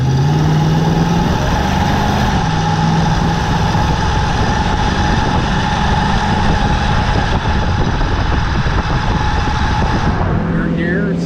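A 1962 Ford Thunderbird with a 390 big-block V8 pulls steadily under load during a test drive, its deep engine drone and road noise continuous and fairly loud throughout, shifting tone slightly as it downshifts into passing gear.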